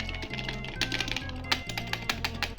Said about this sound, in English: The keyboard is weirdly satisfying.